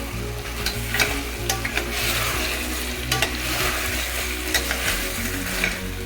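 Trotter (leg) curry sizzles loudly in a frying pan while being stirred, with a continuous crackling hiss and repeated short scrapes and taps of the spoon against the pan.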